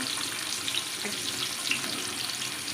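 Seasoned tilapia frying in hot oil: a dense, continuous sizzle with an even hiss throughout, close and fairly loud, with no voices.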